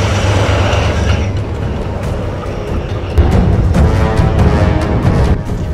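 A heavy locomotive clearing ice from winter railway tracks rumbles steadily with deep low roar and scraping, crunching noise, growing louder partway through, no voices.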